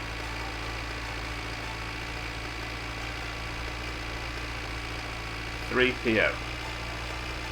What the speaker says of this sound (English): having just endless tractor noise